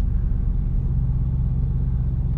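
Jeep with an EcoDiesel engine driving, heard as a steady low rumble and drone from inside the vehicle, with no talk.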